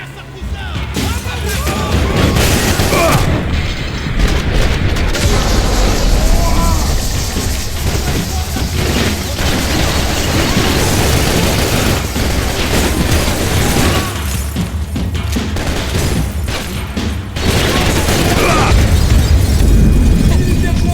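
A bomb blast and loud combat noise from the video game Max Payne, a sustained, heavy roar of booms and bursts that fills the whole stretch, with a voice talking over parts of it.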